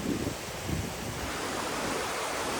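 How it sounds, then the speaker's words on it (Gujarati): Mountain stream rushing beside snow in an alpine valley, a steady broadband wash of water that stays loud and continuous throughout, with no voices. "જો અહીંથી ઝરણું આવે, જો આપણે અહીં બરફ છે"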